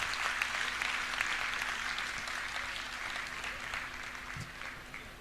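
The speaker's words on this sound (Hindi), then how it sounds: "एक बार जोरदार तालियां बजाइए शानदार कविता के लिए।" A crowd at a Panchkalyanak Pratishtha Mahotsav festival on the DDA ground in Bank Enclave claps for a poem, a fairly faint, steady stretch of applause with a faint background hum.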